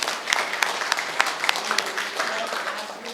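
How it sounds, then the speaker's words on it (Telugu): Applause from a group at a school class reunion, a crowd clapping unevenly with a few sharp, distinct claps standing out over a steady patter. "అందరూ ఒకసారి క్లాప్స్ ఇవ్వండి సాధుకి."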